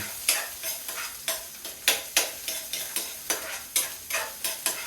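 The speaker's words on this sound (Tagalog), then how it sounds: "You just fry it until maging golden brown." Garlic fries in a pan until golden brown, with a soft, constant sizzle under rhythmic scraping strokes of a utensil stirring the pieces, close up and with no talking.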